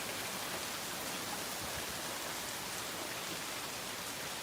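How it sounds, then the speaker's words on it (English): Heavy storm rain from Debby pours steadily south of Sarasota, a dense, unbroken hiss of downpour filling the whole stretch with no voices. "A lot of rain coming down suddenly."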